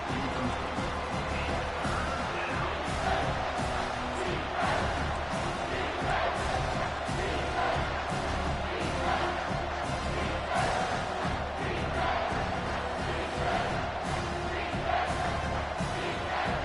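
Steady, dense stadium crowd roar from a college football video game, Texas at Miami, sustained throughout without breaks.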